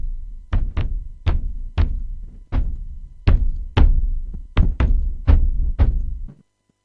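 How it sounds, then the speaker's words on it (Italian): Deep, booming tom drum hits from a Q (Cue) VST sample loop repeat in an irregular pattern, about a dozen resonant thumps with short decays, then stop. "Big Tom questo è."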